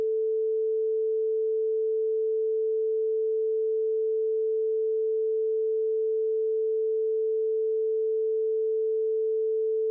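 Steady pure test tone used for checking left-right headphone balance, a single unbroken hum at constant moderate level for the whole stretch, with nothing else heard.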